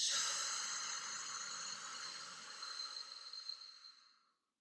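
A deep breath is slowly let out in a long, airy exhale that fades away toward the end, heard alone and close during a guided breathing exercise.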